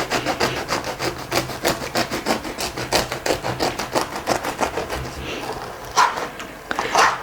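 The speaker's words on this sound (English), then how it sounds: "The bread has definitely cooled down now. So I'm gonna do another slice." A knife saws through a cooled loaf of no-knead whole wheat bread in steady back-and-forth strokes, a close rasping crunch that slows and trails off near the end.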